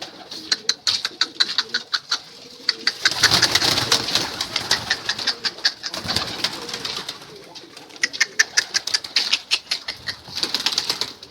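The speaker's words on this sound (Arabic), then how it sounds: "هما نطير الطيور نشوفهن" Released pigeons take off and fly, wings clapping and flapping in close, rapid bursts with a few soft coos, loud and busy with little else heard.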